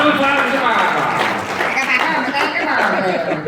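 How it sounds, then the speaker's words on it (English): A podcast audience gives one more big round of applause for voice actors, a thick wash of clapping with scattered laughter and chatter running through it. "One more big round of applause."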